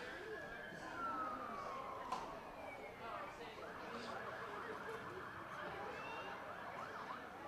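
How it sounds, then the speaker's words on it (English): A distant ambulance siren sweeps down in pitch and then settles into a steady warbling yelp, faint under the broad background noise of an outdoor boys' varsity soccer match. "We heard the fire trucks earlier, now the ambulance."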